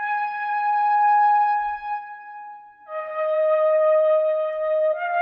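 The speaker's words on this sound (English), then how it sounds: "So I found the flute in Omnisphere and it sounds like this." A sustained flute patch from the Omnisphere software synthesizer plays long held notes, stepping to a lower pitch partway through, steady and clear with no talking.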